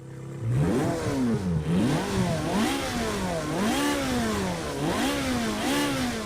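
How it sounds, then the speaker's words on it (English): A Ferrari twin-turbo V8 racing in Project Cars 2 roars through repeated rises and falls in revs, loud and close, with upshifts and a slightly tappy mechanical edge under the engine note. "Engine sounds a bit tappy behind us there."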